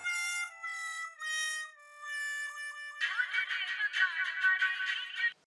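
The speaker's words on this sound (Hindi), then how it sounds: "मैं जेठालाल को फोन लगाता हूँ।" A phone rings in a musical melodic tone for a few seconds, then a denser, brighter burst of ringtone music follows, loud and alone with no talk over it.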